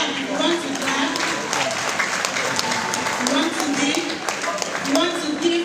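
An audience at a university inaugural lecture claps in a steady burst of many hands, with a voice talking over the applause at times.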